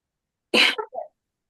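A single sharp sneeze-like burst, loud and close, trailing off into a short second exhalation, with silence before and after.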